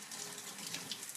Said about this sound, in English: So I'm going to keep rinsing